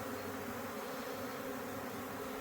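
A swarm of bees moving into a new home buzzes in a dense, continuous drone, close and steady throughout with no pauses.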